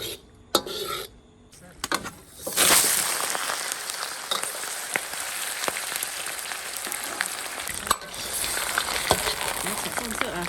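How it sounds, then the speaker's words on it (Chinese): Rock sugar hits hot oil in a wok: a few clattering knocks, then a loud, continuous sizzling hiss that fills the rest of the time, close by and without speech. "我们开始熬糖色，来下入冰糖。"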